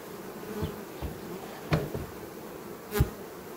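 Honeybees buzz around beehives, a faint continuous hum close by, broken by a few brief sharp knocks and taps, no voices.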